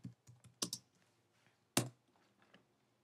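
Keys on a computer keyboard tapped in short, uneven bursts, a few sharp close clicks with quiet gaps between them.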